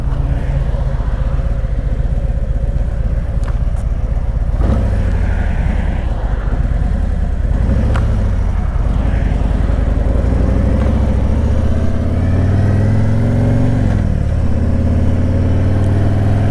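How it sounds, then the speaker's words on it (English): Road traffic heard from a moving car, with a continuous engine and road rumble, occasional clicks and thumps, and a vehicle engine rising in pitch toward the end. "A lot of traffic today."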